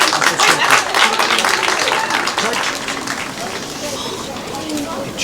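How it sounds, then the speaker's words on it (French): An audience clapping at a school drama performance, a dense burst of applause that gradually thins and fades, with voices talking over it. "On applaudit."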